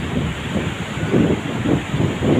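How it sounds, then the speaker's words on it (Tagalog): Big sea waves roll and break under strong wind on a provincial coast, a loud continuous rush with swelling surges of surf and heavy wind buffeting the microphone. "ayan guys oh lalaki na ng mga alon"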